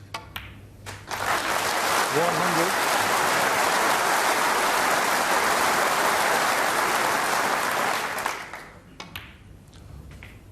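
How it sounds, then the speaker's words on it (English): Snooker crowd at the Crucible breaks into sustained applause for Ken Doherty's century break against Paul Hunter in 2003, swelling loud for about six seconds before tapering off, with a commentator's brief call beforehand. "This will get a terrific round of applause"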